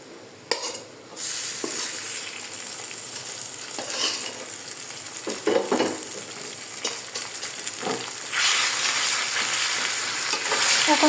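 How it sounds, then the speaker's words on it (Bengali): Taro leaves hit hot oil with browned onion and garlic and sizzle steadily, with the sizzle growing louder partway through. Stirring scrapes and the clatter of a utensil against the pan recur close by. "এখন সুন্দর করে পেঁয়াজ রসুন এবং তেলের সঙ্গে কচু শাকটাকে অ্যাড করে দিতে হবে।"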